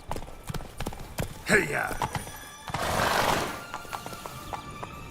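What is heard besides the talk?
horse Roach galloping, hooves and neighing, Witcher 3 video game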